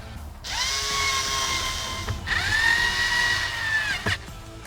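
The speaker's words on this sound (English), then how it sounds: "Last thing we need to do is put our screws back in the top." A power driver running screws back into the top of interior trim on a RAM 1500 pickup, two sustained whirring bursts close by with a short pause between and a click at the end.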